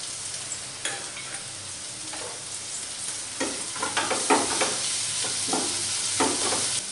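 Onions sauté in a pan with ginger garlic paste, giving a steady loud sizzle broken by repeated scraping stirs that grow busier toward the end; no one speaks.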